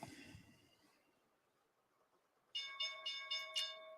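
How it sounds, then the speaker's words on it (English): A stock market opening bell rings in a rapid series of about five clear metallic strikes after a quiet stretch, heard at moderate distance with no talk over it. "There's your opening bell."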